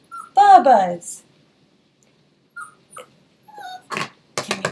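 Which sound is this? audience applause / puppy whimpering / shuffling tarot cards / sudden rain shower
puppy whimpering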